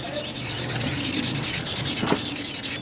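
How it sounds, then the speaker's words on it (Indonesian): Sandpaper rubs rust off the spin shaft of a Sanyo twin-tub washing machine, a steady, close, gritty scraping in short back-and-forth strokes that continues without a break. "Untuk menghilangkan karatnya nih, kita amplas sedikit ya"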